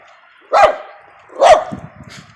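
A small dog barks twice, loud and close, about a second apart, with faint yips trailing after the second bark.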